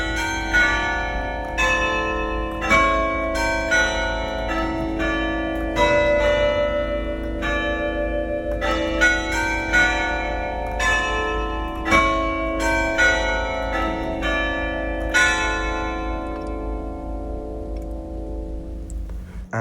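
Belfry carillon bells chime automatically on a timer, a loud, close sequence of bright melodic strikes ringing on with long overlapping decay, no voices.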